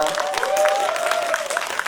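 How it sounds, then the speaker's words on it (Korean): Applause from a lecture audience at a community education academy session in Chuncheon, a dense steady patter of clapping over 2 seconds, with a voice speaking through it. "큰 박수 고맙습니다."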